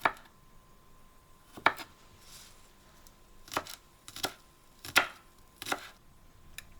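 Knife chopping garlic cloves on a cutting board in a home kitchen, a handful of sharp, separated chops spaced irregularly, close and clear against a quiet room.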